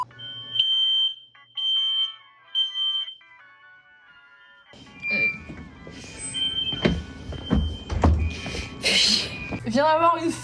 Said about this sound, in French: Vient d'avoir une fucking alarme incendie